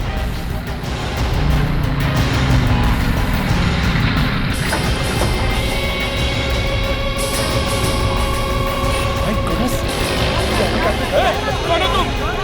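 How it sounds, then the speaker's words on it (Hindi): Heavy street traffic fills the scene with a dense, continuous roar of cars and trucks, engines and passing vehicles steady throughout, while people talk over the noise. "संभल के, ट्रैफिक बहुत है।"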